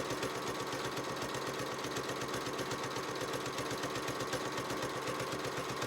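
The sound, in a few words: sewing machine sewing and back stitching a dog bandana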